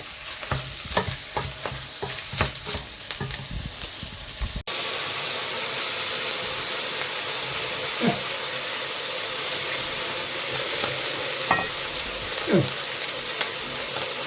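Steady sizzling of veal, beef and onion frying in a pan for goulash, with scraping stir strokes against the pan now and then; no talking.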